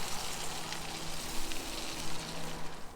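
Lime juice hitting hot oil or butter in a pan, cooking freshly caught trout at Big Bear Lake, gives a steady, close crackling sizzle that holds evenly throughout with no talking.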